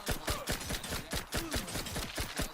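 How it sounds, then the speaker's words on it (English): Rapid, loud bursts of turret gunfire in a video game rattle continuously in quick repeated volleys, with no talk over them. "bloody turrets come out and trying to kill me"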